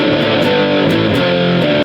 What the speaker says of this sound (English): That is, I guess, what the basic distortion sound would be.